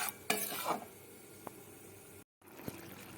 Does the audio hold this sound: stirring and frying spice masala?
yes